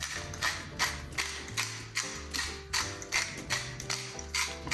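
A pepper grinder twists through black peppercorns in a quick series of rhythmic crunching, ratcheting bursts, about a dozen turns, close and fairly quiet.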